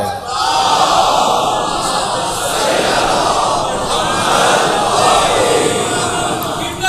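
A large crowd gathered for a religious talk recites salawat in unison, a loud, dense roar of many voices that holds steady for several seconds with slight swells.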